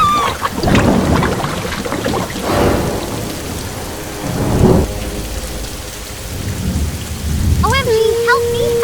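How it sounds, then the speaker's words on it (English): A heavy rainstorm in an animated construction-toy cartoon: dense rain hisses throughout, broken by several deep rolling thunder rumbles, with a short whistling tone near the end. "Heavy rain is making things worse."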